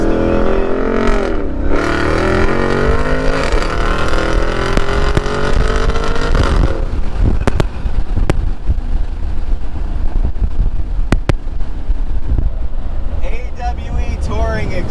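An aggressive car engine with an AWE touring exhaust revs hard and sweeps up in pitch near the start, then drops to a rough idle broken by sharp pops and wind buffeting. The sound is close and loud, with speech mixed in.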